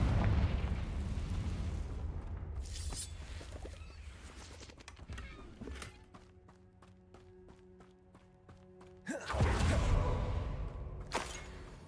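A Confringo fire spell explodes in the video game Hogwarts Legacy: a loud, roaring blast at the start, then quieter tonal game music, and a second heavy explosive burst near the end.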